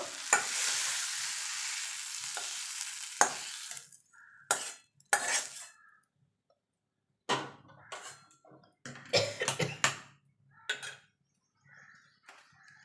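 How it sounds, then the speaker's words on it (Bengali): Potatoes, eggplant and onion sizzle loudly in a hot pan, then give way to intermittent scraping and clanking as the frying vegetables are stirred. "এবার এটাকে একটুখানি ভাজা ভাজা করে নেব"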